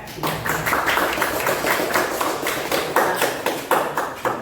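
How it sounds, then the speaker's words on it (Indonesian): A classroom audience applauds a classmate, giving a steady patter of many hands clapping at close range with a few sharper claps standing out, sustained for several seconds. "Kita kasih aplaus untuk temannya"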